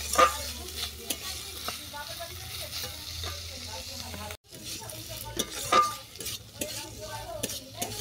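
Banana stem and chopped potato fry in a pan with a steady sizzle, broken by repeated scraping stirs and light clinks of a utensil against the pan, close and fairly loud.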